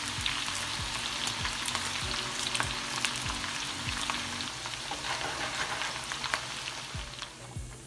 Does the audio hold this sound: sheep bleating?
no